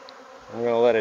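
Honey bees buzz during a hive inspection, a single close bee rising into a loud, wavering drone over about a second, with no talking.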